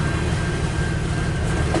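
A CN eastbound mixed freight train led by locomotive CN 8898 rolls past at Port Huron, Michigan, giving a loud, close, continuous rumble of wheels and cars with no break.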